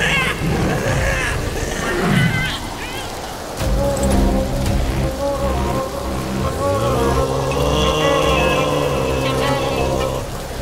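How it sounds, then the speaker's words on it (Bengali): Cartoon rain sound effect, a steady broad hiss of rainfall on a surface for a horror story set in the Sundarbans, running throughout behind a music bed with a brief lull near the start. "কিরে বিনোদ, এই বৃষ্টির মধ্যে আর কতক্ষণ জলে সাঁতার কাটবি?"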